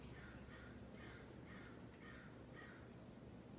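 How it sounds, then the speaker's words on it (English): Several crows caw in a steady repeating series, distant and outdoors, over a constant background hum. "There's some crows that are being very loud and boisterous outside."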